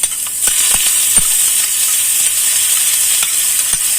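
Ginger sautéing in a hot pan with asafoetida and pepper powder, a loud, steady sizzle with occasional stirring clicks and no talking.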